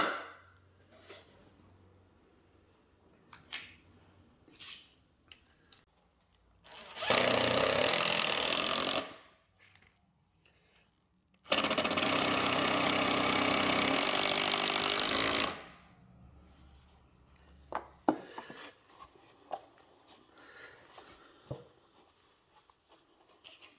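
A power drill or screwdriver drives screws to join plaster hood frame pieces in a DIY build, giving two loud sustained whirring bursts separated by quieter handling noises.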